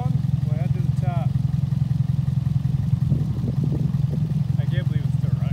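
A Dodge 1500 pickup truck engine idling with a steady low rumbling drone, close and continuous, while people talk over it.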